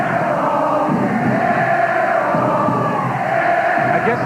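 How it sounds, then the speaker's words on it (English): A college basketball crowd at a 1986 Duke versus Maryland game roars steadily in an arena, a loud continuous wash of cheering and shouting that never drops away. "I guess the Duke crowd is paying attention tonight."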